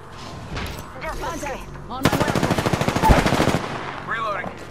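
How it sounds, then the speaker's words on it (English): Rapid automatic gunfire rings out in a firefight in the video game Apex Legends, with a long burst of dense shots in the middle and scattered shots and effects around it, while players talk over voice chat. "I'm getting shot at."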